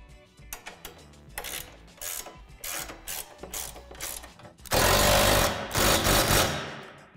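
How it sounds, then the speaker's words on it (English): A tool ratchets nuts tight on the rim of a Lifetime Mammoth Series portable basketball system, giving bursts of quick mechanical clicking that end in a louder, denser stretch of rapid ratcheting. "Tighten these nuts to adjust the tension of the rim."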